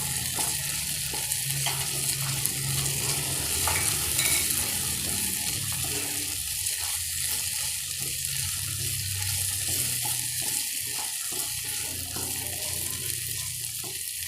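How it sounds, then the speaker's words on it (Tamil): Ginger garlic paste cooks in a pan over sautéed onions with a constant soft hiss of frying, while occasional stirring scrapes and faint clinks run through a low background hum. "இஞ்சி பூண்டு விழுதை நல்லா வதக்கிக்கோங்க."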